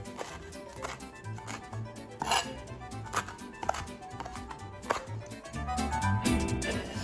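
Rough knife chopping of fresh cilantro on a cutting board for a simple salsa, a run of sharp, uneven taps close by over a low kitchen hum.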